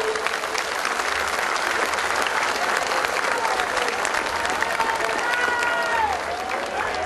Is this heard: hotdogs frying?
no